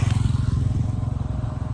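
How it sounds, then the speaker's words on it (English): A motorbike passes on a street in Thailand, a steady low engine drone close by for a couple of seconds, with no voices over it. "There might be the occasional motorbike going past."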